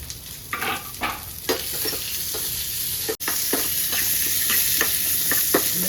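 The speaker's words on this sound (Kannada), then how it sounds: "ಇದಕ್ಕೆ ತುಪ್ಪ ಹಾಕ್ಕೊಂಡು ಸಣ್ಣಗೆ ಕಟ್ ಮಾಡ್ಕೊಂಡಿರೋ ಉದ್ದಕ್ಕೆ ಕಟ್ ಮಾಡ್ಕೊಂಡಿರೋ ಈರುಳ್ಳಿನ ಬ್ರೌನ್ ಕಲರ್ ಬರೋವರೆಗೆ ಕೈ ಆಡಿಸ್ತಾ ಇರಬೇಕು" Sliced onions frying in ghee for a Konkani-style chicken curry garnish, a steady close sizzle broken by repeated scraping stirs of a spoon against the pan, with no voices.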